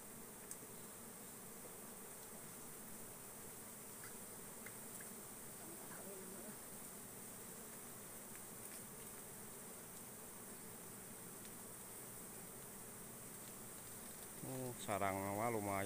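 Odeng bees drone steadily around their nest outdoors, a continuous faint buzz joined by a louder, nearer buzzing at the very end.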